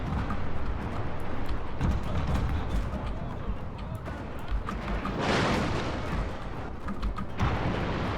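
Naval cannon fire in the video game Total War Shogun 2: a continuous, loud battle din of booming ship cannon shots, irregular and overlapping, with a heavier rushing blast about midway.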